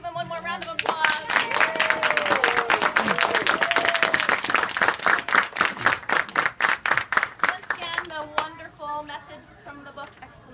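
Audience claps for a school class after its storybook performance, a dense run of hand claps that thins into scattered separate claps toward the end, with a voice speaking over the early part.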